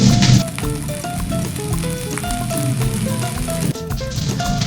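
Soy sauce hits garlic rice frying in a pan, giving a steady sizzle with scattered crackles and faint clinks, loudest at the start and continuing evenly.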